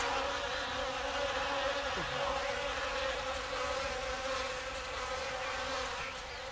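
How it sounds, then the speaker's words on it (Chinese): A dense, steady buzz of a honeybee swarm rising together outdoors, continuous and fairly loud throughout with a constant hum and no speech. "蜜蜂结群而起"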